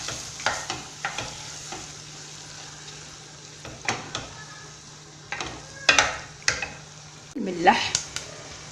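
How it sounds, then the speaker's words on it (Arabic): Chicken, ginger and black pepper fry and get stirred in a pan, giving a quiet sizzle under repeated scraping strokes and a louder burst of sizzling near the end. "ونقلي الكل."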